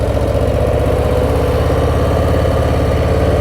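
A Harley cruiser motorcycle engine runs at a steady, loud, low rumble while riding along the road, with constant throbbing and no voices.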